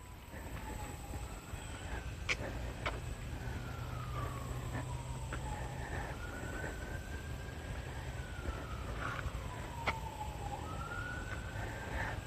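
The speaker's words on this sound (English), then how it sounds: "Oh, you hear the siren?" An emergency siren wails far off, its pitch rising and falling slowly over and over, faint beneath steady outdoor background noise with a few sharp clicks.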